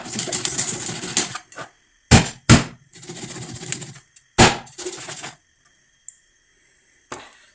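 A knife cuts turkey into slices for pepper soup, giving sharp, close chopping knocks and short scraping bursts on a board, irregular and separated by brief silences.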